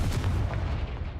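A Confringo spell fired in a Harry Potter video game lands as a heavy, rumbling blast with a booming low end that fades over about a second.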